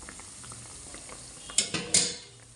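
Badusha sweets fry and puff up in hot oil, giving a soft steady sizzle with a few sharp scraping clinks of a utensil against the pan, close and moderately quiet.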